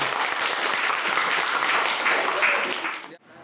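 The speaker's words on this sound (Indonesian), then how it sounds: "Oke, tepuk tangan." A class of students in a classroom claps steadily and fairly loudly for about three seconds, then the applause cuts off abruptly.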